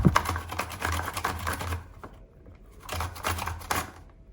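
A carrot is grated against a grater in a kitchen, making rapid, close rasping strokes in two bursts separated by a short quiet pause.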